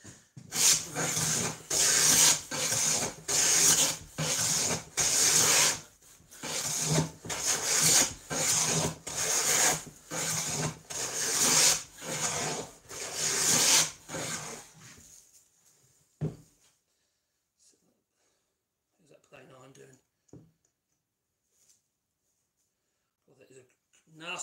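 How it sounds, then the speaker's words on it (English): Hand plane shaving a rough, nasty wooden pallet board for a screwless saw horse, a steady series of about a dozen loud rasping strokes close by, then near silence with faint sounds. "Yes, I'm planing a pallet."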